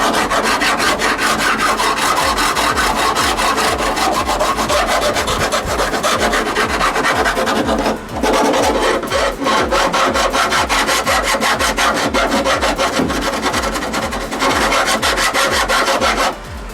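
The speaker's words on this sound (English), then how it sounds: "All right, get that file in here." Steady, loud back-and-forth rasping of a hand file working material on a 1956 chop-top VW Beetle, with continuous strokes running almost without pause.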